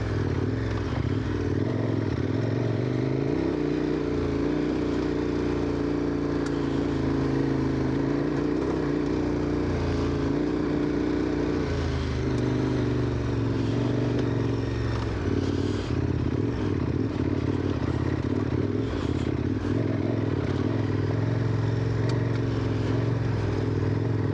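Motorcycle engine revving on Kırkpınar mountain pass in the Bolkar range of the Taurus Mountains, a loud, continuous drone close by that rises and falls in pitch with some rattle and scraping.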